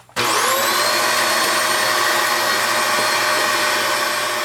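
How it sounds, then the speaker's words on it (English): An old vacuum cleaner set up as a dedicated workbench vacuum switches on abruptly and runs with a loud, steady motor whine and airflow roar, close up. "So now I have a dedicated vacuum for my bench."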